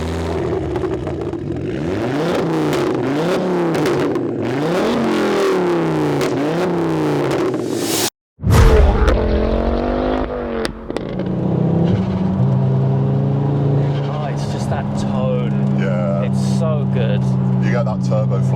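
A Ford Focus RS MK2 hot hatch engine revs repeatedly, rising and falling, then after a brief cut accelerates hard and settles into a steady drone with turbo flutter on lift-off, loud and close, with voices talking over parts.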